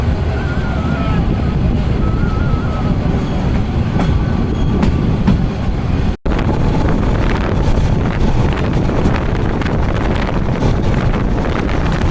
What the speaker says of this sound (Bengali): সুপার স্পিড চলে যাচ্ছে মহানগর এক্সপ্রেস